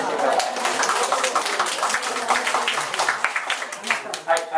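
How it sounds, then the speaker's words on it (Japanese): An audience at an indoor health exercise class bursts into dense, steady applause lasting several seconds, many hands clapping at once at close range with a slight swell near the end. "拍手の大きさでそれを表現してください"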